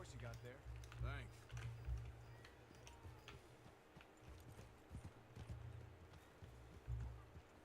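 Hooves clip-clop in an uneven rhythm in a video game, with a horse whinny early on and scattered voices talking over the steps.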